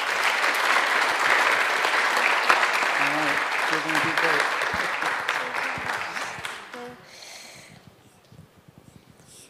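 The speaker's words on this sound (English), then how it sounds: "Give him a round of applause." A church congregation applauds at a baptism service, steady dense clapping for about seven seconds that then fades to near silence.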